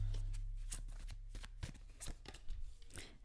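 Tarot cards riffled and drawn from a deck close to the microphone, a series of quick soft flicks and slaps in an uneven rhythm over a low hum.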